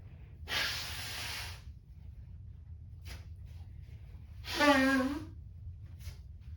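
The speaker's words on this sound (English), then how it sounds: "Gotta blow my nose." Two forceful nasal blows from a person, each a breathy snorting burst about a second long, the second with a wet honking tone, close-up in a quiet room.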